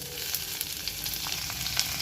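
Chopped onions sauté in coconut oil with fennel seeds in a pan, giving a steady close sizzle with faint crackles and the occasional scrape of stirring.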